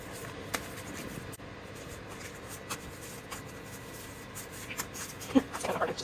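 Paper Halloween movie-night envelopes are shuffled by hand indoors, making a soft, faint, intermittent rustle with a few light taps and a quiet voice in the background.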